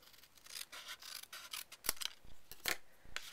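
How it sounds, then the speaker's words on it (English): Scissors snipping a paper card wallet, quiet close-up cuts in short irregular strokes with light rubbing of paper between them. "I like to give this just a real tiny trim"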